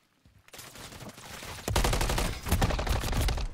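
Dense bursts of automatic gunfire in a Call of Duty style hardpoint match on the Vista map, starting faintly then growing loud and continuous with rapid overlapping shots.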